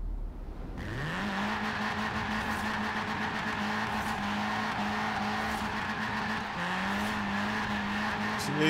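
A small car in Forza Horizon 4, built for wheelspin drifting, holds a loud, steady engine drone that revs up at the start, with tire squeal and skidding running throughout.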